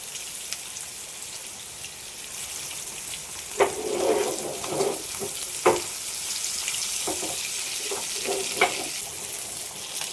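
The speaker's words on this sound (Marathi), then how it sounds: "बांगडे आपले मस्त फ्राय झालेत" Mackerel frying in hot oil for a spicy Konkan fish curry, giving a constant bright sizzle with a few louder pops and clinks mid-way, close up and with no talk.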